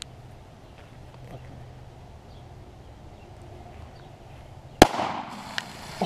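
A Glock 19 pistol fires one loud, sharp shot into a row of water balloons, followed by a few faint smaller pops and splashes after a quiet lead-in.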